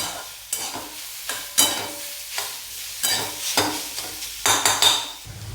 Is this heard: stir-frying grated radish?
yes